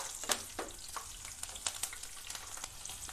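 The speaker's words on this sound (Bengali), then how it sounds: "ওই তেলের মধ্যে আমি দিয়ে দেব ফোড়ন জিরে তেজপাতা দুটো ইলাচ দিয়ে দিলাম" Cumin seeds, bay leaves and cardamom pods sizzle in hot oil for a Bengali katla fish kalia, a steady close crackle punctuated by sharp pops and spits.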